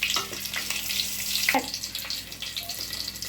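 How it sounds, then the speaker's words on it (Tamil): Cinnamon and cloves sputtering in hot oil for a biryani with raw baby jackfruit, a steady close fizzing crackle with a few brief pops, no talking. "நல்லா பொறிஞ்சிருச்சு பட்டை கிராம்பெல்லாம்"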